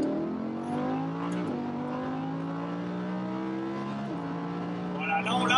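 Car accelerating on an aerodrome driving course, its engine climbing steadily in pitch with two clear gear shifts, a near, moderate, continuous whine throughout.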